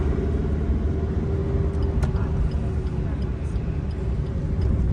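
A car drives along a road on a trip to Kolhapur, heard from inside as a steady low rumble with light ticks. One sharp click comes partway through.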